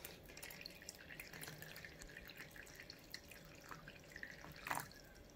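Hot water poured into a container of cold water during a currents and eddies demonstration, heard as soft, faint trickling and dripping with a small splash near the end, no talking.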